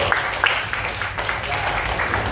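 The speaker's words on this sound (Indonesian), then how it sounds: "Ya, kasih tepuk tangan dulu." Classroom applause from a group of students, a dense steady patter of many hands clapping throughout, fairly close and even in loudness.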